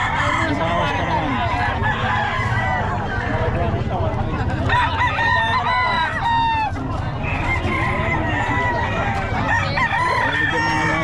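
Several fighting-breed roosters crow repeatedly, rising and falling calls overlapping near and farther off, with clucking and people talking underneath.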